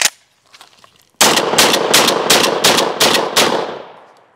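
A 12 gauge shotgun with an extended magazine tube fires seven rounds in quick succession, each blast loud and close, after a few faint handling sounds.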